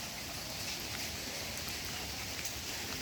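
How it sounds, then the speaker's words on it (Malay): Heavy rain at a campsite in Hulu Langat, a dense continuous hiss of falling water that is steady and fairly faint throughout, with no voices. "Sekarang sedang hujan. Agak lebat."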